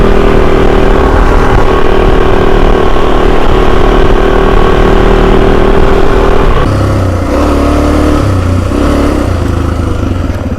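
A Suzuki DRZ250 dirt bike engine runs close and loud, idling steadily at first, then shifting to an uneven, lumpier throb in the second half with no talk.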